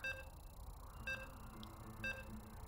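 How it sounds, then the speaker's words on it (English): Short electronic beeps in a StarCraft 2 game loading screen, three evenly spaced tones about a second apart over a low background hum. "you can hear the beeps, and we are loading into game number 2"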